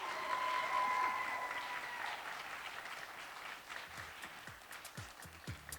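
Pageant audience applauding, a dense wash of clapping that swells early and slowly tapers, with a few sharp individual claps standing out toward the end.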